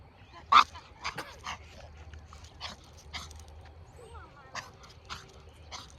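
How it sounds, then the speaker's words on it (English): A dog barks outdoors on a hillside, several short sharp barks spaced across the clip at moderate distance, with faint voice and ambient outdoor noise underneath. "that's one of the dogs that be barking at my dog all the time when I be coming up this hill"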